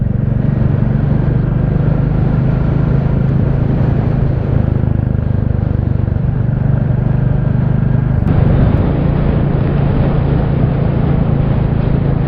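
A Royal Enfield Classic 350 motorcycle riding on an autumn owners' club ride to Greenham Common: a loud, steady low engine rumble with constant wind rush, close up and unbroken.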